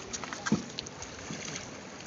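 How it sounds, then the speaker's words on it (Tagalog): A boat moves on the biggest river in Nakar, Quezon, giving a faint hollow bump and light water movement over a low, steady outdoor hiss. "Ayan na, sasakay na ng bangka."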